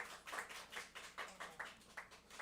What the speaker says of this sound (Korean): 우리 격려의 박수 한번 부탁드리겠습니다